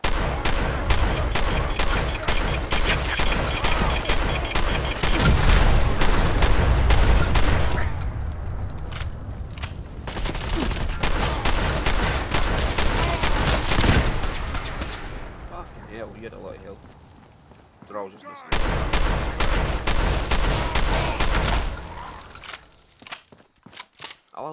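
Rapid gunfire from the player's weapon in Fallout 4, long loud automatic bursts with heavy recoil thumps, a short pause, then more firing fading to scattered shots, with talk over parts of it.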